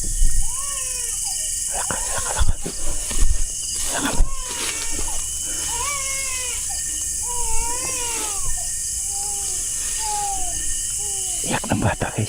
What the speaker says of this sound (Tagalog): Iyak ng bata, guys.